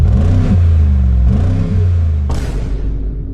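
A stock Mercedes G63 AMG twin-turbo V8 revs hard twice with a rising, throaty roar, then settles into a loud rumbling idle with a sharp burst of exhaust.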